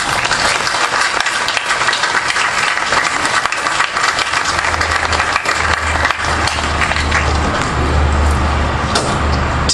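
Audience applause welcoming Senator Mamie E. Locke at a Richmond, Virginia civic gathering, loud, sustained clapping from a large crowd that fills the whole stretch without letup.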